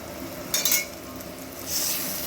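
Green chili and white cumin paste hits a hot pan of frying potato and pointed gourd, giving a short bright sizzle with a clink of a utensil, then a steady hiss that swells near the end, with no talking.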